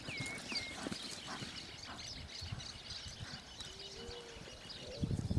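A working ranch horse's hooves clip-clopping steadily on the ground, faint and moderately close, with birds chirping and an occasional distant call in the background.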